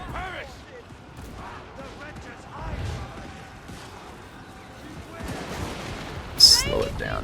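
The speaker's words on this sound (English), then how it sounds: "Our cannons should be ripping some shots down those ores." Cannon and gunfire from a Total War Warhammer 3 battle: scattered shots and crashes rumble under steady talk, with a sharper, louder burst near the end.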